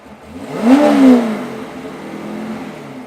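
A car engine revving hard once at a SEMA car show, a loud close rising roar that peaks and then settles into a steady idle.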